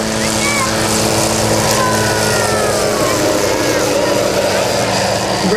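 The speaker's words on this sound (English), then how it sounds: "This is a Hughes 500, ladies and gentlemen. You see it going left to right in front of you." A Hughes 500 (Hughes 369) helicopter flies past left to right at a rotorcraft show, a steady loud engine and rotor drone with whining tones sweeping across, under faint crowd and announcer noise.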